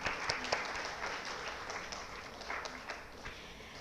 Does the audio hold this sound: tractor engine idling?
no